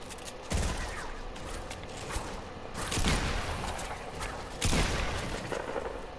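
Gunfire and booming blasts in a Fortnite zombie game mode, including heavy shotgun shots, loud bursts recurring every couple of seconds over a busy noisy background.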